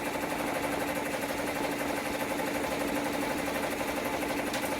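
An embroidery machine stitches an in-the-hoop zipper with a steady, fast mechanical whir and rapid needle chatter that holds at an even level throughout.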